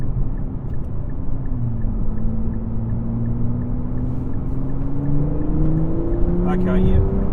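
A 2024 Nissan Z engine runs close by and climbs steadily in pitch as it revs toward 4,000 RPM, a smooth rising drone over a low rumble, with a brief rattle near the end.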